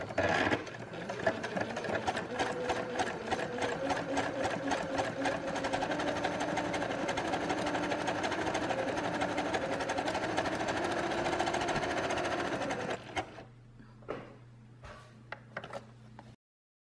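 Sewing machine running steadily, overcasting the long edge of a fabric piece with a zigzag stitch, a fast mechanical whirr with rapid needle clatter, then stopping near the end with a few lighter clicks.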